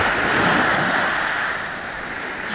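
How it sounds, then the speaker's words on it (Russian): Rough, stormy sea surging onto a beach at Blue Bay near Gelendzhik, a steady roar of breaking surf with wind hiss across the microphone, loud and continuous throughout without any voices. "Ну, видите, море штормит, небольшой мусор плавает"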